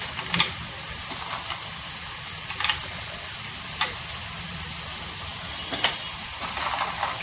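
Bean seeds fry in masala in a pan, giving a continuous sizzle and hiss with occasional louder crackles and stirring clicks, close and steady with no talk.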